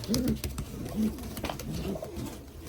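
Show Homer pigeons, a rare breed, coo close by in a few soft, throaty bursts, one after another with short pauses between.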